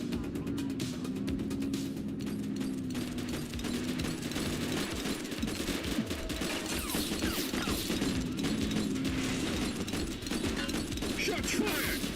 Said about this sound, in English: Suspected gang members exchanging gunfire at Slipwater Yard.